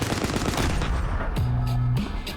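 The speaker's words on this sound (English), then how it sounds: "The muzzle blast from the M60 blew the powder completely off the floor" An M60 machine gun fires a rapid burst of loud, reverberant shots on a test range, followed by a short electronic tone and a couple of sharp trailing bangs.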